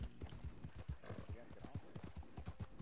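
Video game horse hooves running at a quick, even gallop rhythm, with thudding steps repeating throughout and a faint whinny, heard under players talking.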